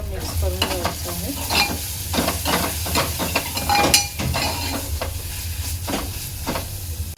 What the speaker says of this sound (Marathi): आता हळद आणि गरम मसाला चांगला मिक्स करून घ्यायचा आहे।